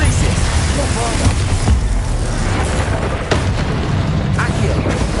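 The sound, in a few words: Confringo and Bombarda explosion spells in video game Hogwarts Legacy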